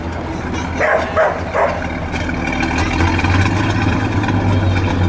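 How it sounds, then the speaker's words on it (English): A 1935 Packard 1207 Club Sedan V12 idles with a quiet, steady low exhaust rumble that swells slightly in the later seconds, with a few short bark-like bursts near the start. "Let me listen to the exhaust for a second."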